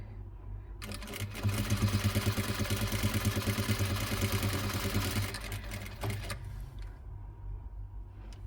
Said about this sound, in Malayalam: അപ്പോൾ ആ 2 പീസും ഒരുമിച്ച് വെച്ചിട്ടൊന്ന് സ്റ്റിച്ച് ചെയ്തെടുക്കുക.